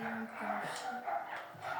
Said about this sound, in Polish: Możecie słyszeć szczekanie psów.